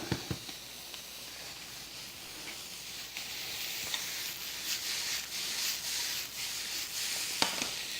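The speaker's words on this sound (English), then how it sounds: "Now I'm going to add the garlic to the shrimp" Garlic frying with shrimp in a pan gives a steady, close sizzle with scattered crackles and pops that swells slightly partway through, heard with no talking.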